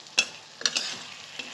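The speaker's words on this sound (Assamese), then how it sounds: "চব্জিখন লৰাই দিম।" A spoon scrapes and stirs through a curry of fried singhi fish and potato in a pan, in three or four quiet separate strokes over a soft sizzle.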